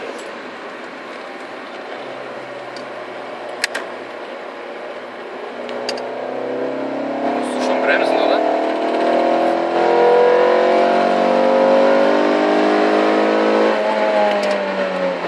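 A Renault Clio RS engine climbs steadily through the revs under acceleration, a rising, harmonically rich drone heard from inside the car, with a brief spoken remark early on.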